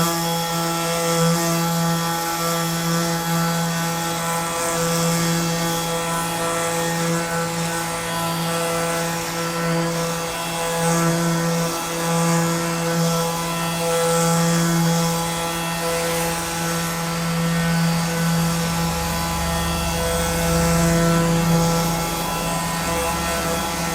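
A Milwaukee M12 Fuel compact random orbital sander runs continuously at speed setting 4 with its dust bag attached, a steady, close, high-pitched whine with a faint rhythmic wobble as it works the surface.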